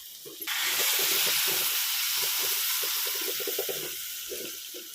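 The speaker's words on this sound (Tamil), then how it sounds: "இப்போ நம்ம புளி தண்ணி சேர்த்துக்கலாம்." Steady hissing pour of tamarind water into a pot of okra curry, with soft bubbling and clinks underneath, continuous for several seconds.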